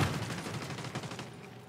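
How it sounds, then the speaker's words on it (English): A grenade launcher fires in The Division 2, sending a quick rumbling burst of booming gunfire over about two seconds, fairly faint and with no talk. "Whoop, grenade launcher."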